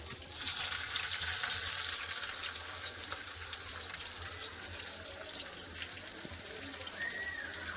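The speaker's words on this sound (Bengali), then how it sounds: "তেল গরম হয়ে গেছে দেবো পেঁয়াজ" Chopped onion dropped into hot white oil in a wok, giving a steady broad frying hiss that holds at moderate loudness throughout, with no talk over it.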